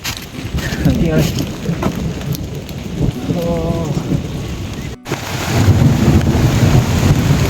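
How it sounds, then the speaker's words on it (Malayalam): Heavy rain pours down in a dense, constant roar on a mountain trekking route to Kareri Lake, Himachal Pradesh, with a voice talking briefly over it partway through. "നല്ല മഴ പെയ്യുന്നുണ്ട് കേട്ടോ."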